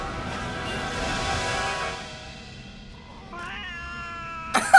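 Cats meow in the King's Quest video game, Chapter 4: several drawn-out, wavering meows and caterwauls close up, fading midway, then a brief sharp burst at the end.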